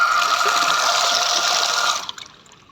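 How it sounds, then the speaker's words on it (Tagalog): Running water from the city water supply gushes steadily from a tap or pipe, a loud close rush that cuts off abruptly near the end, leaving faint dripping. "Ayan, meron pa rin siyang supply ng tubig"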